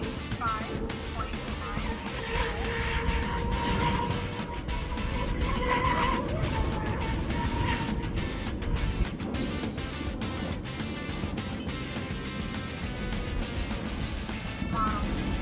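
Rampage Twin Cat RC catamaran boat running new Dynamo 57x113 brushless motors, giving a steady, loud high-pitched electric whine with rushing water noise that holds for the whole stretch, rising slightly in places.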